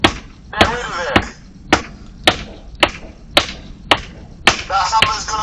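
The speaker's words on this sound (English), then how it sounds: "That hammer's gonna be no good" A hammer strikes repeatedly, about ten sharp, loud blows at a fairly even rhythm, each with a ringing tail. A voice comes in between some of the hits.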